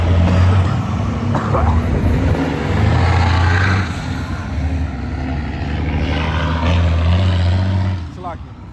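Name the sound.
truck passing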